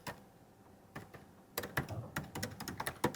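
Computer keyboard typing, a few scattered keystrokes at first then a quicker irregular burst of clicks, close and clear with no voices.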